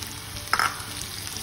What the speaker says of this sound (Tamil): இந்த இஞ்சி பூண்டு பேஸ்ட்டு அதோட பச்சை வாசனை போகிற அளவுக்கு நம்ம வறுத்துக்கணும்